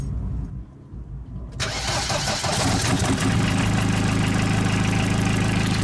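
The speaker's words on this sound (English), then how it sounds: "start the engine" A car with a broken exhaust pipe cranks briefly, catches, and settles into a steady, close idle hum.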